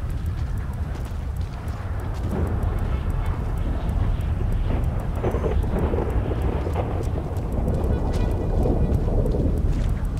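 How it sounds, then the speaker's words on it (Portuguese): Heavy rain and thunder in a zombie-city survival video game make a loud, constant broadband rush with deep rumbling underneath that runs unbroken throughout. "essa chuva aqui tá alta"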